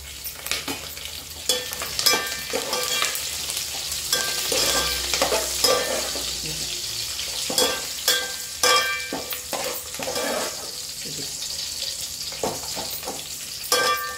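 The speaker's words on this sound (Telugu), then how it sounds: "కలమాకులు వేసేస్తున్నా. కొంచెం కొత్తిమీర వేసేస్తున్నా." Curry leaves and coriander go into a hot frying pan. Steady sizzling runs under repeated clinks and scrapes of stirring, close and moderate in level, with no talking.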